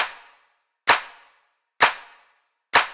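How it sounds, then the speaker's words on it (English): Layered house-music claps, several samples stacked with their hits nudged slightly off the grid, strike four times at an even pace, each a sharp, bright snap with a short decaying tail and silence between. "combining the clap with a couple more claps, and the MIDI of these claps is just pulled slightly off the grid"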